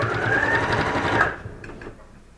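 A sewing machine stitches through an upcycled t-shirt fabric for a draped heart cushion, running steadily and close for over a second, then stopping and leaving a few faint clicks.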